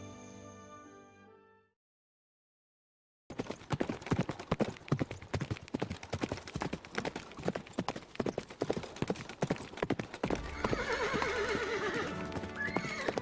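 Horses on a horseback ride, with dense, close clip-clop hoofbeats on a hard surface and a neigh near the end. A brief musical passage and a short silence come first.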